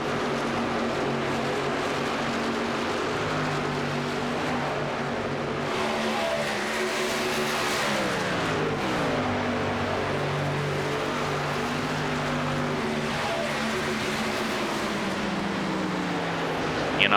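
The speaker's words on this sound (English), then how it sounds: "Few cars still rolling." Race trucks roll on a track during pit stops, a continuous loud engine drone with rising and falling pitch as vehicles pass close by, with no talk over it.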